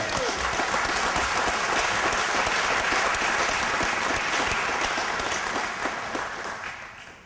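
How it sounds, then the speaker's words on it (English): An audience at an alumni awards ceremony breaks into sustained, loud applause, dense clapping holding steady before tapering off over the last couple of seconds. "Let's give him a round of applause."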